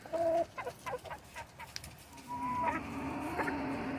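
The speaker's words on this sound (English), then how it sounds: "Chickens are their own background noise." Chickens clucking and calling at close range, a loud opening call followed by a busy, overlapping run of clucks and squawks that continues throughout.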